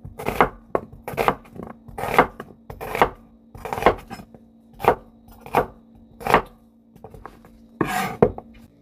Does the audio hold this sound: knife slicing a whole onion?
yes